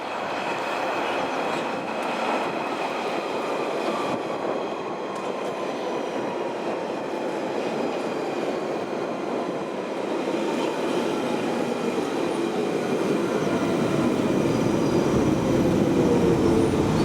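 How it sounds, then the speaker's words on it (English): A London Underground train on the Epping branch rumbles past steadily at a moderate distance, passing under the M25 motorway, a continuous broad roar with faint wheel squeal, growing slightly louder toward the end. "that train is crossing under it"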